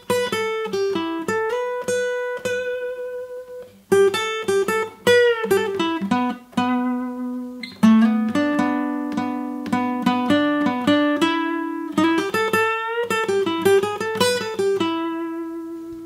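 Acoustic guitar playing the intro solo of a song, section four of the lesson with vibrato, picked single-note runs and bent, sustained tones in phrases over about sixteen seconds, clear and close with no voices.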